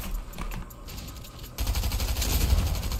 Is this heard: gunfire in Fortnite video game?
yes